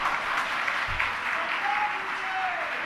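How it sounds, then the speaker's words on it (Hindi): Seated listeners at a Jain religious discourse in Siddhvarkut, Madhya Pradesh, clap together in a continuous, even burst of applause, fairly close and loud, with a faint tone gliding in the background. "एक बार बजा दो ताली।"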